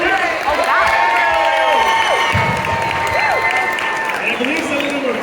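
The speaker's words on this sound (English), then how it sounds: "let's give another round of applause for Lance Lee from Galileo High School" A school assembly crowd for a Chinese New Year program applauds and cheers loudly, with whoops and shouting voices woven through the clapping.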